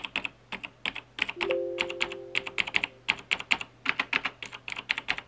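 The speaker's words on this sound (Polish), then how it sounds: "Klawiatura mechaniczna firmy Auwa." Fingers typing on an Auwa mechanical keyboard with Cherry MX Blue switches, producing rapid, crisp clicking keystrokes in uneven bursts, close and clear, with a brief faint tone partway through.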